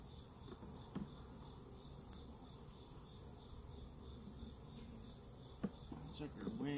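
Honey bees at a hive where they are building comb, a faint steady insect hum running throughout with a few small knocks and rustles near the end.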